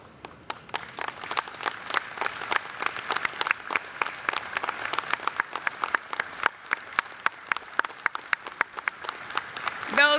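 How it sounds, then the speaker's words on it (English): Applause at a business session honouring women veterans as they stand: sustained crowd clapping with many distinct sharp claps, moderately loud and building slightly, with a voice briefly audible at the end. "would you please stand so we can give you a round of applause?"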